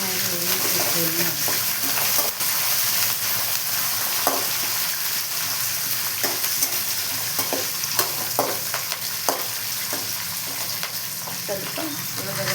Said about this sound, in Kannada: ಸ್ವಲ್ಪ ಕಡಲೆ ಬೀಜ, ಕಡಲೆಕಾಯಿ, ಇದು ಕೊಬ್ಬರಿ ಮತ್ತು ಸ್ವಲ್ಪ ಕರಿಬೇವಿನ ಸೊಪ್ಪು ಎಲ್ಲ ಹಾಕಿ ಸ್ವಲ್ಪ ಚೆನ್ನಾಗಿ ಹುರಿತಿದ್ದೀನಿ